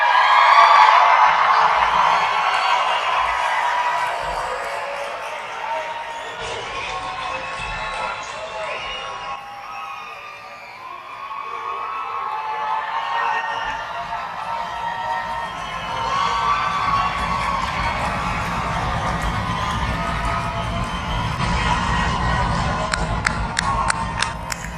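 Graduation audience of families cheering, whooping and shouting across a large hall, a sustained loud crowd roar with scattered yells and some clapping, swelling again toward the end.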